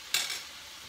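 Pork fat hits a hot pan in a sharp burst of sizzle that quickly settles into a quieter, steady frying hiss, with no voices.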